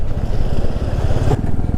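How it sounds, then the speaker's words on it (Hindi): Loud, close engine thump of a Royal Enfield Classic motorcycle being ridden on a monsoon road in Meghalaya, a steady low pulsing chug with some mechanical clatter and no talk. "बाइक चलाने में भी बहुत मज़ा आ रहा है।"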